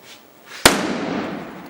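A single sharp gunpowder firecracker bang goes off about a third of the way in, loud and close, after a near-silent start, then fades into a lingering rumbling wash.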